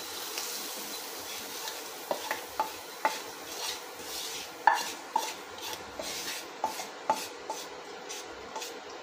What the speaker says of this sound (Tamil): இப்போ வந்து இந்த எண்ணெய் நம்ம தாளிச்சதை இதில் ஊற்றிடலாம்